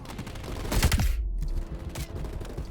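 Heavy M60 machine gun fire in Call of Duty: Black Ops Cold War, a loud, dense volley of rapid shots that surges in the first second, then gives way to softer scattered gunfire and game noise.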